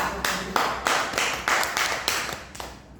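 A classroom gives a short burst of applause, a group of hands clapping near and fairly loud, irregular and dense, with the claps thinning toward the end.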